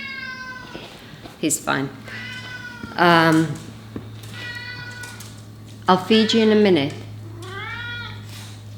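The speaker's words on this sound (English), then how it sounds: "The ginger cat is really really loud." A ginger cat meows loudly and insistently several times, and its drawn-out cries are mixed with someone speaking softly to it. A steady low hum sits underneath.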